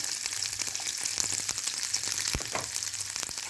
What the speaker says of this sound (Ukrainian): і буду смажити до золотавого відтіночку